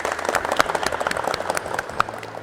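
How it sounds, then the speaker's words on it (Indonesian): Classroom applause for students in an automotive lesson, a short burst of scattered, fairly close hand clapping from a small group. "Tepuk tangan untuk anak-anak."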